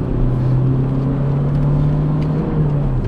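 A Renault Megane 1.9 dCi diesel accelerates hard at a Magione circuit trackday, giving a steady, loud in-cabin engine drone whose pitch climbs gradually over a few seconds, with no talking.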